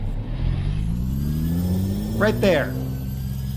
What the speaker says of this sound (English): It sounds almost like a supercharger whine.